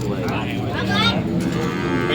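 Cattle low and moo repeatedly at a busy rural cattle market in Ban Yang, Warin, with overlapping calls close by against a steady crowd murmur and faint talk.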